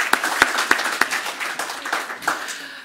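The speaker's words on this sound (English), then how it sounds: "Yes, I think they deserve a round of applause." Applause at a journalism awards ceremony for award winners, a modest crowd clapping with a few sharp, evenly spaced claps standing out near the front before it tapers off.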